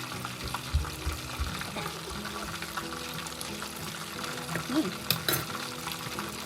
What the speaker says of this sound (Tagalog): Halo na ang ating gravy